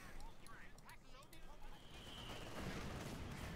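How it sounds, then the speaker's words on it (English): Tank gunfire in the World War II strategy game Company of Heroes 2, quiet bursts of firing and explosion rumble within a busy battle soundscape, with a commentator's voice heard over the start. "And the tank opening up."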